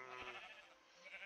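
Sheep bleating in the video game Ascalon Resurrection, a single short, close bleat with harmonic tones that lasts about a second with no talk over it.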